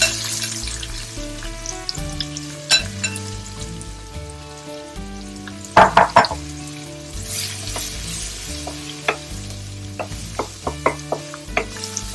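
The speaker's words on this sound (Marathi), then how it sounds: "छान कांदा परतून घ्यायचा." Chopped onion sautéing in a hot pan after ground coriander, cumin and chilli powder, a continuous close sizzle with intermittent stirring scrapes and a burst of sharp clatter midway, no voices.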